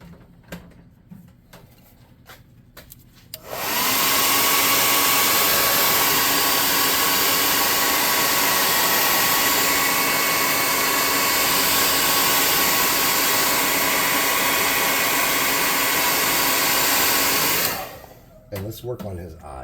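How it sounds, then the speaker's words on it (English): A hot air gun blows steadily to dry paint on a custom tabletop miniature, a loud continuous whooshing roar that starts abruptly after a few quiet seconds, holds unchanged for about fourteen seconds, then cuts off. "let's dry this off with a hot air gun"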